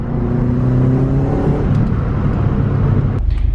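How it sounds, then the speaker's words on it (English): Turbocharged car engine with a leaking header gasket, pulling hard at full boost and low RPM, a loud close droning roar with tonal whine that fades slightly before a brief clatter at the end. "I just did a semi-hard pull at full boost, low RPM, full boost, and I do hear a gasket leaking."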